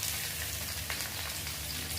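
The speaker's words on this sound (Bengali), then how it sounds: "আমরা দিয়ে দেব কারি পাতা, অল্প ভেজে নিচ্ছি। এরপর দিয়ে দিচ্ছি আমরা পেঁয়াজ কাটা।" Curry leaves and chopped onion frying in a pan, a dense, constant sizzle with crackling pops, close and steady throughout.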